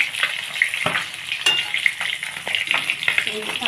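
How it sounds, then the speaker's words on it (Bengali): Pieces of silver carp fry in hot oil, making a close, busy crackling sizzle with frequent bright pops and spatters and no voices. "মাছটা ভাজতে বেশ টাইম লাগবে মাছগুলো ভাজা হয়ে গেছে"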